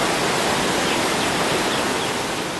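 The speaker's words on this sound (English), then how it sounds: "It's drizzling." Light drizzling rain falls outdoors in China, a soft steady hiss throughout.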